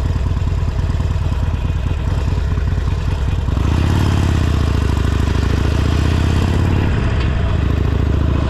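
A motorcycle in second gear rolls through a quiet residential neighborhood at a 25 mph limit. Its steady mid-pitched engine drone is close and continuous, and it swells into a fuller, louder rumble partway through.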